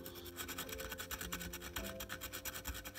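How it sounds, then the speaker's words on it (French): A brass scalpel scraping dirt off a metal-detecting find, producing steady, rhythmic rasping strokes close up at a soft level, repeating quickly without pause and with no voices. "J'ai un peu peur d'abîmer la patine avec le scalpel en laiton."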